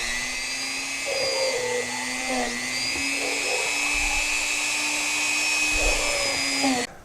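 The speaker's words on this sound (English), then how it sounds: "Now I'm just going to go ahead and drill out the pilot holes." A small drill bores pilot holes in cedar wood for scroll saw fretwork, making a continuous high-pitched motor whine that holds steady for several seconds before cutting off at the end.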